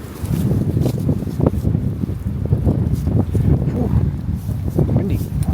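Steady outdoor wind rushes and buffets the microphone on a cold, blustery day, a continuous low roar with rustling over it and occasional soft thumps.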